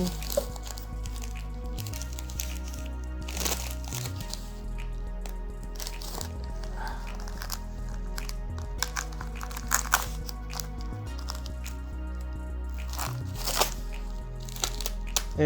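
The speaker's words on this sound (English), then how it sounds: "Let me just cut this open." Scissors cut open the packaging of a red AT&T-network SIM card from an iPhone SE 2020 unboxing, producing close crinkly snips and plastic rustling with occasional soft thumps.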